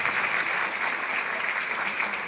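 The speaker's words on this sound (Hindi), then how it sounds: "तालियां बजाओगे नहीं तो कैसे बनोगे?" Audience clapping at a business motivational seminar in Bhagalpur, Bihar: a dense, steady wash of applause that holds at an even level for the whole stretch, with no voices on top.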